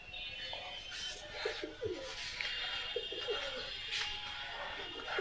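Pigeons on a rooftop coo repeatedly in soft, throaty bursts, several birds calling over one another at a moderate distance amid faint outdoor background noise.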